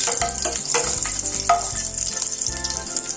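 Crushed garlic frying in hot oil with spluttering mustard seeds for a coastal-style chicken gravy: a loud, steady sizzle crackles close up, with sharp pops scattered throughout.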